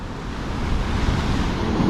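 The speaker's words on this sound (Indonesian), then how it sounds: "dengan ombak pantai selatan yang cukup dahsyat, cukup besar di sini ombaknya" Big south-coast surf pounds Pantai Seruni beach in Pacitan, a heavy, continuous low roar of breaking waves mixed with wind buffeting the microphone, swelling slightly louder toward the end.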